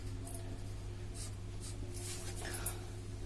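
A pen scratches across paper as numerical data for a gas turbine problem is written down by hand, with soft, faint, intermittent strokes over a quiet room hum.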